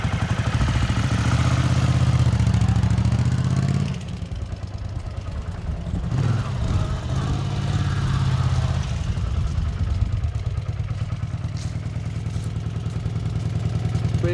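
A 1980 Honda CX500C motorcycle engine runs at idle with a steady low throb and mechanical clatter, nearby, dipping briefly midway before settling back into an even idle.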